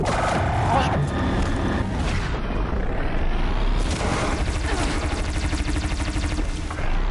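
Dense, continuous booming bursts like rapid cannon fire fill the clip, loud and close, with game voices and effects mixed underneath, from the video game Horizon Zero Dawn.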